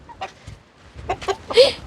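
A small half-kilo rooster on a farm makes scattered short clucks and scuffling sounds close by, with a sharper burst near the end over faint background noise.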